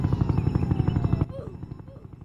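Black Hawk helicopter rotor blades in the Roblox video game, a loud rhythmic chopping beat that cuts off abruptly partway through, leaving a quieter, fainter whir.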